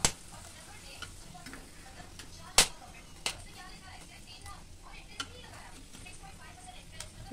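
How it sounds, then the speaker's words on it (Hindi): Sabudana papad deep-frying in hot oil, a soft continuous sizzle punctuated by a few sharp metallic clinks and taps of a utensil against the pan. "इसी तरीके से गाइस आप तल सकते हैं साबूदाना के पापड़"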